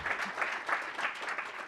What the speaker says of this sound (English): Let's give a round of applause for our awesome speakers.